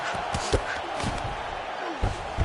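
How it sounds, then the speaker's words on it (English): A UFC arena crowd roars and cheers loudly and continuously in a packed venue, a dense wash of voices with a few louder bursts and thumps. "The crowd's going crazy because they just saw two high-level grapplers mix it up on the ground"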